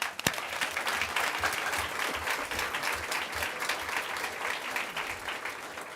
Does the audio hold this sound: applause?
yes